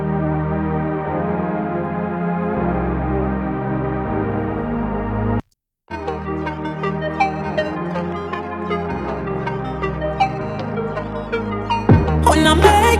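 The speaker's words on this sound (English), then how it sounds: "I added a couple different LFO modulations to that sound," A rich synth pad preset with slowly pulsing, wobbling LFO modulation, broken by a brief silence midway, then resuming with brighter plucked textures before a bright burst at the end.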